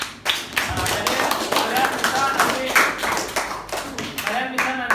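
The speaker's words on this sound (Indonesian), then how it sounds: "kita berikan aplaus" A classroom of children claps together in a burst of dense, uneven applause lasting about five seconds, close by and lively, with voices mixed in.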